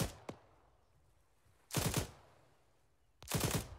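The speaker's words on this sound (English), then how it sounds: "Devilish machine gun spot." Machine gun fire in Arma 3, with a single sharp shot followed by two separate rapid bursts of automatic fire, each lasting about half a second, set against quiet background ambience.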